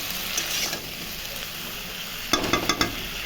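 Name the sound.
stirring and frying bori (lentil dumplings) in a pan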